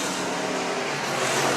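Race cars sweep past the line as the leaders complete lap four, a brief, loud, broad wash of engine roar that swells steadily.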